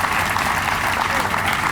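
An audience at a groundbreaking ceremony applauds the speakers, a dense, steady burst of clapping that fills the whole brief moment.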